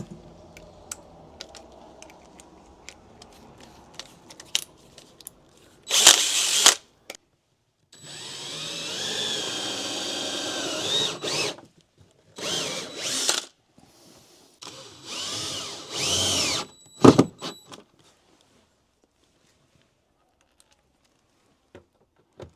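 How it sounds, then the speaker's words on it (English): Power drill with a star bit driving screws into a Transit van storage build, with several loud whirring bursts of motor drone that rise and stop between short taps and quiet gaps. "Then I'll go back in with the star tip and drive the screws in."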